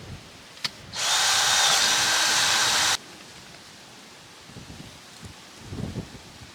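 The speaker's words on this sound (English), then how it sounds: "So I want to drill 3 holes through the edge of the panel" A power drill with a bit bores holes through the edge of a solar air heater panel, a single loud continuous whine lasting about two seconds, starting and stopping abruptly, with quiet handling noises before and after.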